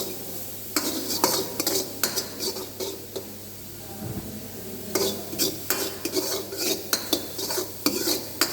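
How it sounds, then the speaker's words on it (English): Vegetables with chopped celery stir-fried in a pan for manchow soup, with spatula scrapes and clinks against the metal in quick irregular bursts over a low steady sizzle, close up. "Stir fry it until the vegetable gets translucent."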